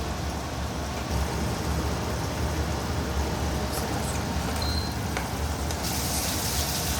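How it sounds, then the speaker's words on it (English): Onion gravy with ginger garlic paste sautéing in a pan gives off a steady, dense sizzle that runs unbroken and fairly loud, with a few faint clinks near the end. "we are now sauteing it well till the onion gravy gets a golden brown color"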